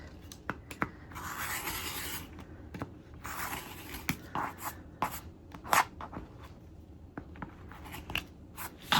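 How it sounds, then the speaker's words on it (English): Scissor or rotary-style cutting and scraping along a ruler as the seam allowance of paper-pieced fabric is trimmed, a series of short crisp snips and rasps, close and quiet, with no talking. "Use our ruler to trim down our seam allowance."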